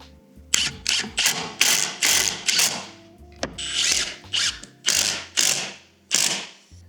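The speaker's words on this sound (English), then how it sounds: "But we'll get our screw gun." A screw gun driving screws into wood for film-production platforms and ramps, with repeated loud whirring bursts, each a second or so long, one after another with short gaps, close and without talk.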